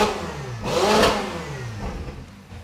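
A Ferrari engine with an aftermarket Inconel exhaust revs up hard, rising to a loud snarling peak around one second, then falls back and drops toward idle, with a smaller blip near the end.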